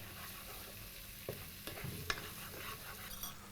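Garlic paste sizzles steadily in a hot pan with oil while a spoon stirs it, leaving a few soft scrapes and clicks over a constant frying hiss.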